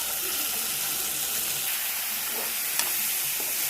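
Soaked moong dal goes into a hot pan for a drumstick-leaf curry and is stirred, producing a steady, close hiss and sizzle with faint stirring sounds.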